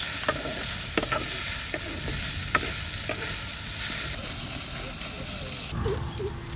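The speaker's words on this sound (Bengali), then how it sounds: "এবার একটু ভাজা ভাজা করলে হয়ে যাবে" Raw vegetable stalks fry in a pan while being stirred, a low continuous sizzle with repeated scraping knocks of the spatula and some faint talking in the background.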